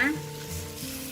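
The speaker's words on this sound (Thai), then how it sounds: "นำกระทะตั้งเตาเลยค่ะ แล้วใส่กะทิลงไปค่ะ" Brief hissing sizzle of coconut milk hitting a hot pan, a soft continuous crackle lasting about a second.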